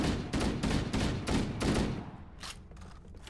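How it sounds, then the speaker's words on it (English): A UNSC gun in the Halo video game fires in short controlled bursts, about five close, punchy volleys in quick rhythm, then a couple of fainter shots as the firing tails off. "Now I'm going to move back a bit, and I'm still firing in short controlled bursts"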